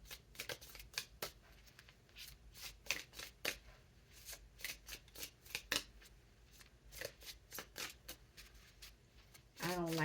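A deck of cards is shuffled close by in quick repeated bursts of crisp riffling and snapping, with short pauses between the shuffles and a brief sweeping ruffle at the end.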